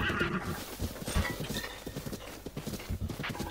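Galloping hoofbeats with a horse's neigh in Zelda: Breath of the Wild, steady clip-clop rhythm close and clear with game ambience, no talk.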